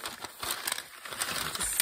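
Craft paper torn by hand in a series of crisp, irregular rips and crinkles, close and fairly loud, running continuously with brief pulses and no talk.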